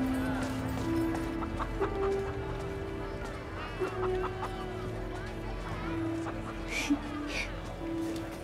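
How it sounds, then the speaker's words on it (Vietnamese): A large rooster clucks repeatedly in a scene from an anti-Japanese war action drama, giving short throaty calls scattered over several seconds beneath people talking. "Con gà trống này lớn biết bao nhiêu."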